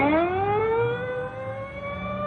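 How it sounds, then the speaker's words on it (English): An ambulance siren wails in a long, steady tone that slowly sinks in pitch and fades as it pulls away, alone with no voices, a staged radio-drama effect. "The ambulance is pulling away."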